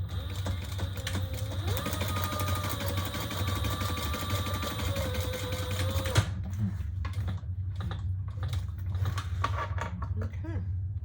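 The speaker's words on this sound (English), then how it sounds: "And top stitch that nice and flat." A sewing machine top stitching a wallet, a fast steady mechanical whir with a continuous tone that stops abruptly about halfway, followed by quieter handling clicks.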